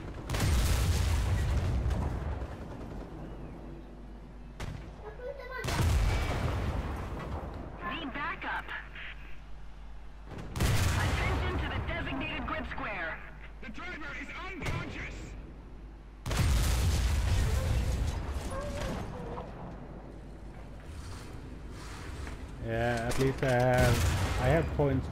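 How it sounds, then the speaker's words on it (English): Tank gunfire in War Thunder, loud heavy blasts recurring every few seconds amid battlefield rumble, with voices talking over the combat. "Someone's shooting at me from behind."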